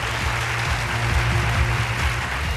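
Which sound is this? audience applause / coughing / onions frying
audience applause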